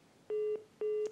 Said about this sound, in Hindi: लगता है कि हमारा संपर्क यहाँ पर मीना जी से टूट गया है।